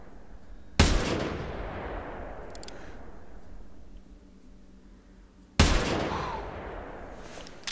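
Two sharp, loud gunshots in theHunter Classic hunting game, about five seconds apart, each with a long rolling echo fading into outdoor ambience.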